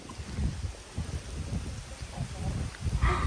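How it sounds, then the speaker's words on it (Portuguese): Wind ahead of an approaching rainstorm on a rural farm: gusty, rumbling rushes of air rise and fall in uneven waves, loud and close, with a brighter hiss creeping in at the end. "e a chuva tá chegando, olha o vento da chuva"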